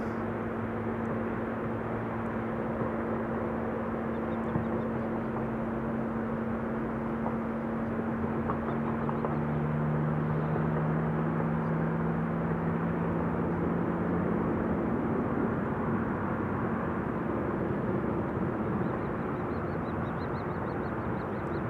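A KLM Cargo airplane moving at Amsterdam Schiphol Airport on a sunny day gives a steady, broad engine rumble with a droning tone, held at a constant loudness throughout with no talking.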